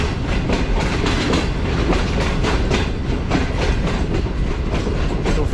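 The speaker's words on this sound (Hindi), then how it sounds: "लेट हमारी 6 आउट ग्रीन लाइन एक्सप्रेस पहुँच रही है टिगरोड जंक्शन रेलवे स्टेशन पर" A Green Line Express train rolls into Tigrod Junction railway station, giving a loud, steady rumble with rhythmic clickety-clack of wheels over rail joints, close by and without speech.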